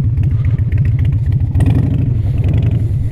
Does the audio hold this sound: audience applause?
no